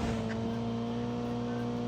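Car engine from a vehicle driven in the mobile game Call of Duty Mobile, a steady droning hum with tonal whine held evenly throughout, loud and close with no talk over it.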